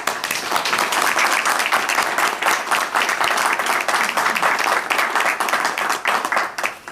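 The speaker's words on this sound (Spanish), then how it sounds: "un gran aplauso en estos momentos." Crowd of Cuban attendees at a press conference applauds for several seconds, a loud, dense and continuous clapping with a few voices faintly mixed in.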